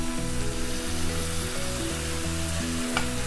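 Masala for Madurai chicken kothu parotta fries in a pan over medium heat, a loud continuous sizzle with stirring, over a steady tonal background.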